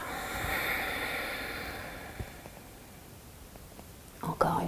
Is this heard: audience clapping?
no